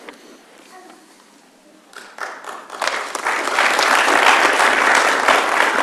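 Applause at a city council meeting, starting as scattered claps and swelling after a few seconds into steady, fairly loud clapping from the chamber audience, with faint talk at the start.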